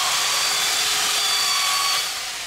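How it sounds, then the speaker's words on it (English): A power sander grinds against the edge of a clamped Peavey Reactor guitar body during relic work, giving a steady, loud, close whirring hiss that eases off slightly near the end. "I'm going to start sanding it"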